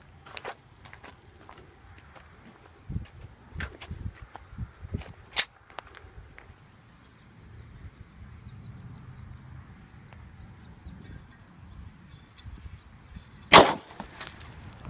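A gunshot fired at a homemade denim body armor plate, heard as one loud, sharp crack near the end, after quiet handling clicks, footsteps and faint background rumble.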